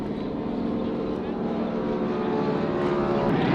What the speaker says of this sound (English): They look like old Japanese planes.